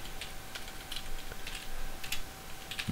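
Faint, quick keystrokes on a computer keyboard tap in a light, uneven rhythm, close by but quiet, with a constant low hum beneath.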